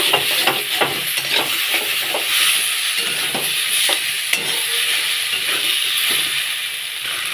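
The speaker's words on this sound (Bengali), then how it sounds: "আর একটু মিষ্টি আলুগুলো দিয়ে দেবো আর একটু ভালো করে কষিয়ে নেব" Potatoes and sweet potatoes sauté in spiced oil in a kadai for a ridge gourd and katla fish curry, giving a steady close sizzle with repeated scraping stirs of the spatula throughout.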